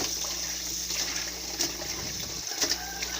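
Ingredients for kalampay are washed in water for the fourth time, a steady close sloshing and running water sound with brief splashes throughout.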